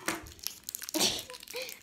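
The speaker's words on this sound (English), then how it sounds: "Got the yellow scissors and I just want a choppy chop." Yellow scissors cut open a weird snack package, giving brief crinkly crunching and snipping of plastic wrapper in two close bursts, with soft rustles and a faint voice around it.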